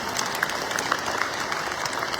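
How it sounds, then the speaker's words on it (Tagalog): A crowd applauding volunteers at a public event, dense continuous clapping at close to moderate distance with no pauses. "palakpakan natin sila."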